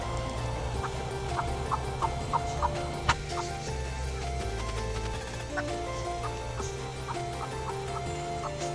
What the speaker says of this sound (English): He's our new curly rooster this year.